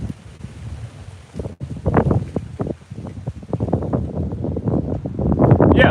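Strong outdoor wind buffeting the microphone in loud, rumbling gusts that rise and fall continuously, with a brief dropout partway through and no clear talk over it.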